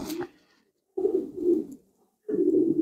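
Racing pigeons coo inside a breeding loft: three soft, throaty coos close by, separated by short silent pauses.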